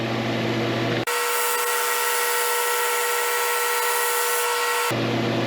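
A Flatmaster drum sander grinds across a board of resawn pallet wood in one loud, steady pass of roughly four seconds. The abrasive roar sits over the machine's continuous motor hum, which runs before and after the pass.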